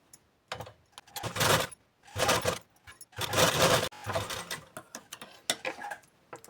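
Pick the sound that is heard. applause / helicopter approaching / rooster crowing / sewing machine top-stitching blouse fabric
sewing machine top-stitching blouse fabric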